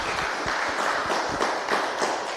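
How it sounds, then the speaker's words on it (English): An audience at a Law Society of Kenya event applauds both teams, a dense, steady round of clapping from many hands throughout. "let's give both teams a very warm round of applause"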